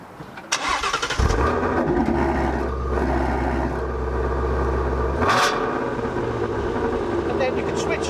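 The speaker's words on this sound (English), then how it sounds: "So when you start the car, it's always in normal mode." A Ford Mustang GT350 V8 cranks and fires up, its engine catching with a sharp burst and then settling into a steady, deep rumbling idle in normal exhaust mode, with a brief rev flare partway through.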